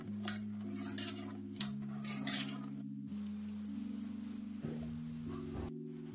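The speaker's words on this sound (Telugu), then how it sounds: "ఈ ఇంగ్రీడియంట్స్ అన్ని విస్కర్తో బాగా మిక్స్ చేసుకోవాలి" A whisk mixes chocolate cake batter in a bowl, making light metallic clinks and scrapes in short bursts close by, under steady sustained background music.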